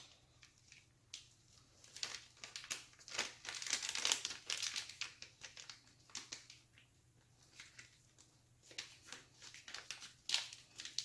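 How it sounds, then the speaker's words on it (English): Small plastic bag crinkling steadily as loose contents are shaken and mixed inside, close up, in bursts of rustling with short pauses, no talking. "I'm just trying to kind of mix that around in this little bag, like this."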